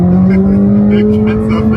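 A Corvette C8 ZR1 accelerates at half throttle, its engine giving a loud, steady, rising drone heard close up for under two seconds.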